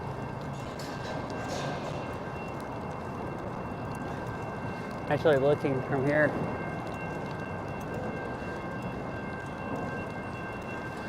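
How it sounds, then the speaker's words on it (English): A train idling on a nearby track by a downtown intersection gives a steady low rumble and hum, with a brief whistling squeal partway through. Someone speaks briefly outdoors. "I was wondering what all the noise was. There's a train sitting on the train track here."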